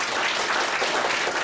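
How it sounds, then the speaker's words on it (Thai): An audience applauds, a dense, steady burst of clapping at a business talk on network marketing, loud and close with no voice over it. "give a round of applause for life"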